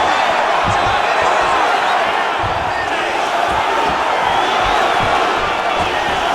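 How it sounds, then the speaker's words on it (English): A virtual arena crowd at a mixed martial arts bout in EA Sports UFC 5 roars and cheers loudly and continuously, with dull thuds of strikes scattered beneath. "The crowd's going crazy because they appreciate high-level mixed martial arts"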